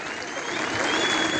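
Crowd at a wrestling bout in Angor claps together for the wrestlers, a dense, steady burst of applause close by that carries evenly throughout.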